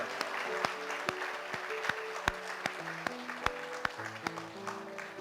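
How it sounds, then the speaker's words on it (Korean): Congregation applause in a church service for a recovering member, fairly faint steady clapping from a room of people with a few sharper individual claps standing out, under tonal background sound. "건강하시라고 뜨겁게 박수 한번 해드립니다"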